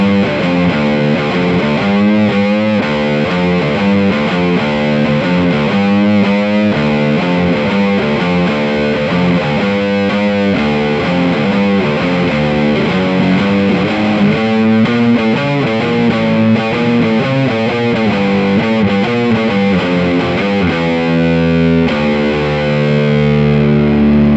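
Heavily distorted electric guitar riffing continuously at high volume, thick and saturated, with a driving rhythmic pattern and no talking.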